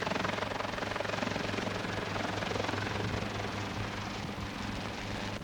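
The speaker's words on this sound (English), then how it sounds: "Laying hose with a helicopter was tested during Operation Firestop." A helicopter hovering low while laying fire hose during a forest firefighting test, its rotor chopping in a steady loud pulsing drone from start to finish.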